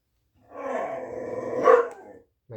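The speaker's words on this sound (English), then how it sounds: "My dog likes to yell at me through the window, and it's going to be really loud and annoying" A pet dog gives one loud, close bark that rolls into a gruff, growling howl through a window, lasting just over a second, with silence before and after.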